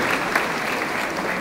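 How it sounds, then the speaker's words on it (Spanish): A crowd of teachers applauds at a teachers' union gathering in Patzún, a loud, dense and continuous wash of many hands clapping at once, heard close and without pause. "Aplausos, compañeros y compañeras."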